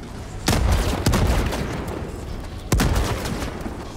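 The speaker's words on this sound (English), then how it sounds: "Throwing grenade!" A thrown grenade goes off in the Helldivers 2 shooter during a fight at a bot outpost, with sharp loud blasts and gunfire bursts cracking out at intervals over a rumbling battle din.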